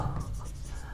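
Handwriting on a board or page during an environmental engineering lecture, a short stretch of scratchy pen strokes close by.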